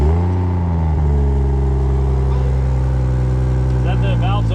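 A cold Ford Mustang GT S550 V8 idles, a deep, loud, steady rumble close by, with people talking over it.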